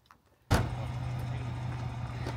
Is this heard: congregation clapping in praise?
no